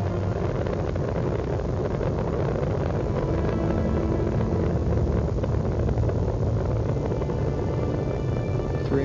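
Space Shuttle Discovery's three main engines roar during ascent while throttled down through maximum aerodynamic pressure, a broad, continuous rumbling wash heard from a distance, fairly steady for the whole stretch with no voice over it.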